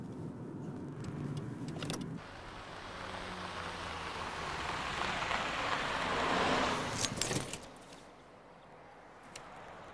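A car driving along the road makes a broad whooshing hiss that builds louder, peaks, then drops away to quieter road noise, with no talking.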